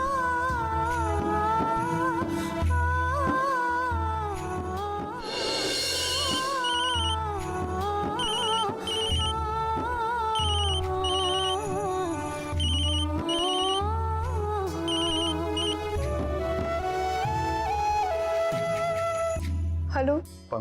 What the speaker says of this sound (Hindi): पंखुड़ी बेटा, तुम फोन क्यों नहीं उठा रही थी?